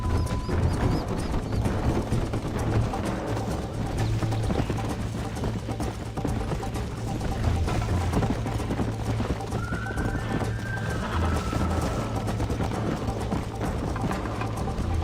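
Horse hooves clip-clopping at a gallop in the Red Dead Redemption video game, a steady rhythmic pounding under game music, with a brief whinny partway through.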